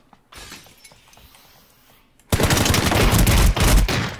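In a video game, window glass shatters and a loud burst of rapid gunfire follows. A quiet stretch with faint clicks comes first, then a sudden dense, sustained volley up close.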